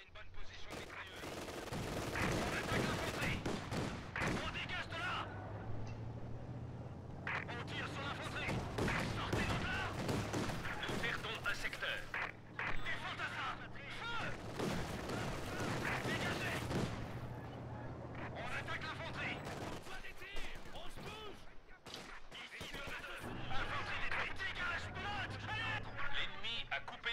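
Gunfire from the video game Company of Heroes 2 rattles through a long stretch of battle, with bursts of machine gun fire and heavier blasts repeating over a constant war din, partly under a voice speaking.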